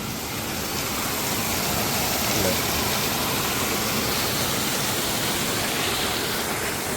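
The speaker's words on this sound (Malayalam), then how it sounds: "ചെറിയ കുഞ്ഞു വെള്ളച്ചാട്ടം" Steady rushing water pours continuously over a small forest waterfall, a broad even roar, with a brief spoken word over it.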